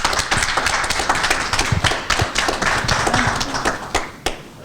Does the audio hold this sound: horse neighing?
no